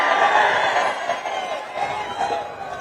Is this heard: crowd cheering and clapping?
yes